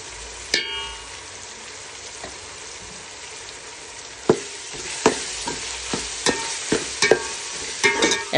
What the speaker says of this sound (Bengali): মশলাগুলা ভালো করে একটু কষিয়ে নেব।